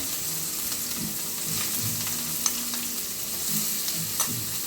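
Chopped ridge gourd sizzles steadily in a hot pan while a utensil stirs it, with occasional scrapes and clinks over the continuous frying hiss, close and alone without speech.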